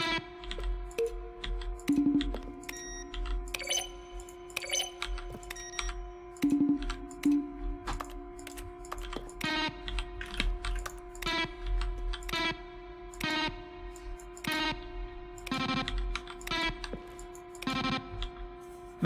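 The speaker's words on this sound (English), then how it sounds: "A selection of sounds used throughout the game when buttons are pressed. Each sound is a mix of keyboard stroke and a synthesized tone." Button-press sounds from the video game The Stanley Parable Ultra Deluxe, each a keyboard keystroke blended with a synthesized tone, play one after another as a series of crisp clicks with ringing pitched notes, heard alone and fairly close.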